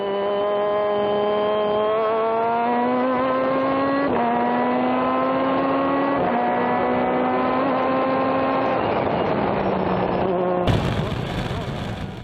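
Race cars at Buttonwillow, one passing another, with a loud, steady engine drone rising in pitch through gear changes, then a sudden burst of harsh broadband noise near the end.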